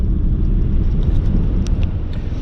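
Car driving along a gravel road in rural Australia, a steady loud low rumble of tyres and engine throughout, with faint higher crunching flecks now and then.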